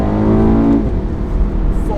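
A Volkswagen Golf Mk7 R in race mode accelerates hard, its engine note climbing through strong harmonics before settling into a steady, loud rumble close by.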